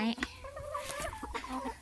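Laying hens cluck close by at feeding time on a small farm, giving short irregular clucks while someone talks.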